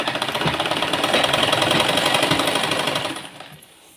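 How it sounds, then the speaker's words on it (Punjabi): A sewing machine stitches the side seam of a suit, a dense rapid rattling run that stays steady and close for about three seconds, then slows and stops near the end. "ਫਿਰ ਆਪਾਂ ਇੱਥੇ ਰੱਖ ਕੇ ਸਿਲਾਈ ਲਗਾ ਲੈਣੀ ਆਪਣੀ"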